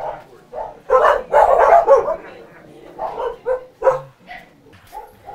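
Several dogs at a dog rescue bark, yip and whimper close by in overlapping bursts, with short gaps between the louder volleys.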